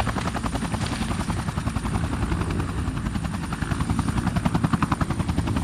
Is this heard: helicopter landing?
yes